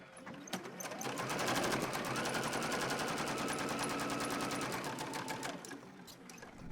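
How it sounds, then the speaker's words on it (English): A sewing machine quilts fabric onto batting in one continuous run of rapid, evenly spaced needle strokes lasting several seconds, close and steady. "I'm going to use that as my guide to keep sewing these every 1 inch apart."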